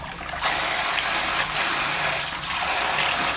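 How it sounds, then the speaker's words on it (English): A micro brushless DC water pump runs submerged in water, giving a steady loud gushing and splashing rush that continues throughout with slight surges. "This is the pump running after being placed on the water."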